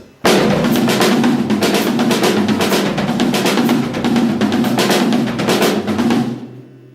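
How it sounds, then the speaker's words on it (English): A drum kit plays a steady run of fast sixteenth notes, with doubled strokes moving across the drums and cymbals, loud and close, with no voices. "I play it around the set and just put doubles on different drums,"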